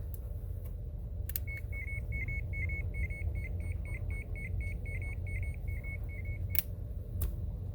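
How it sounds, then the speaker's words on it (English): A vintage lineman's pager, one of the earliest pagers made, gives a steady run of short, evenly spaced high beeps lasting several seconds, set against a low background hum with a few clicks before and after. "this was his personal pager. It's one of the first pagers that came out"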